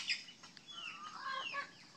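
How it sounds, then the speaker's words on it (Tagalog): Native chickens cluck and call softly at a farmyard, a scatter of faint, fairly distant bird sounds and short clucks continuing through the moment with no talking. "Mga native chicken."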